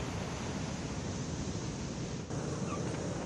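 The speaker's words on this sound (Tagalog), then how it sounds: "mataas at malakas ang alon sa mga baybayin" Strong high waves on the coast of Ilocos Sur during heavy rain, a constant loud roaring surf wash with wind buffeting the microphone and no speech.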